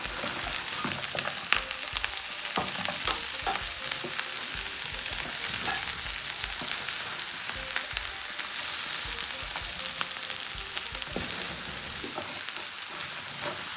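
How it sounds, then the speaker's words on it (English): Fried prawns sizzling in a hot pan for salt and pepper prawns, a steady loud crackle and spatter throughout with occasional stirring clicks, no voices. "You want to now add the fried prawns"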